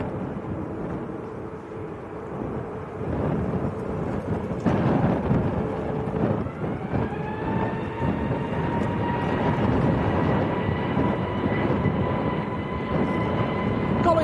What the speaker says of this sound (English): Another heavy coming out as well, Tom, over there. That looks like an A330, possibly, is it Virgin?